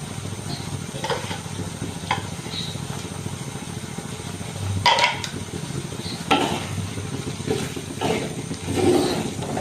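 Prawns cooking in a spiced masala paste in a pan with pepper added, giving a soft bubbling sizzle broken by several scraping stirs and clatters of a utensil against the pan.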